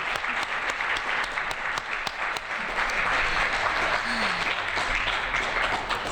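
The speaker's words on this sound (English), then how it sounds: "Can you give Moyo a round of applause?" Sustained audience applause fills a career conference hall, many hands clapping in a thick, even roar, with a brief spoken word near the start and a faint voice partway through.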